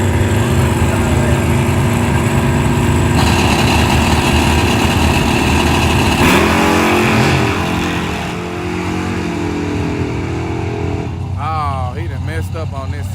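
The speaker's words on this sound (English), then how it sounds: "We got the bracket racing going on out here at XRP" Race car engines at a bracket racing event at Xtreme Raceway Park roar loud and continuous, with shifting revs and a rising whine near the end, heard at close range.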